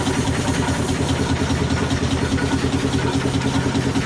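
A steam traction engine runs steadily at a farm show, giving a continuous loud low mechanical chugging rumble with even rhythm and no voices over it.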